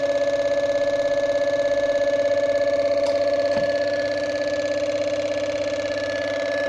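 Electric motor running steadily after a star-delta start with automatic reversing by limit switch: a loud, constant electrical hum with a fine rapid pulsing texture and a faint click partway through, easing slightly toward the end, no voices.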